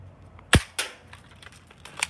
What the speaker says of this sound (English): We're gonna be shooting at the targets, like I said, and I'm gonna go first